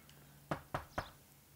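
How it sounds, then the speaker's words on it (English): Knuckles rap on glass three times in quick, evenly spaced succession in the video game L.A. Noire, crisp and close over a low steady background hum. "I like how glass sounds when you knock on it"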